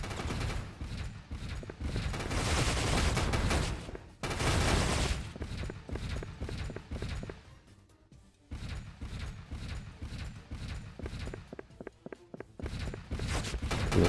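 Nearly continuous gunfire from the Pursuit Force video game, a dense, loud rattle of shots that runs almost without pause, with a brief dip before the firing resumes in rapid bursts.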